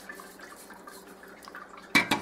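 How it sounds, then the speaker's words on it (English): Water is dribbled over the threads of a bottle lid, with soft, faint trickling and dripping heard up close, followed by two brief, louder splashing bursts near the end. "crack the lid and dribble water over the threads"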